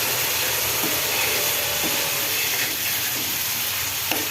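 A spice paste for a prawn dish is being sautéed in a pan, giving a steady, close, continuous sizzle and hiss with a few faint clinks of stirring, and no talking.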